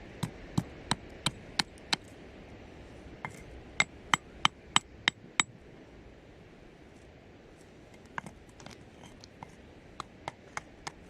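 A hammer strikes a hard object found on the beach in sharp, ringing taps, first in a steady quick series, then in scattered bursts after a pause, close and crisp over a faint background hiss.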